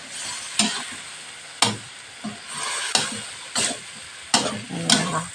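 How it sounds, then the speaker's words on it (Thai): Holy basil stir-fry tossed in a hot pan with the liquid cooked off, a steady sizzle broken by five or six sharp scraping spatula strokes at irregular intervals, close and clear with no talk. "ผัดเข้าไป น้ำแห้งหมดแล้วนะคะ โอเคผัดต่อเลย"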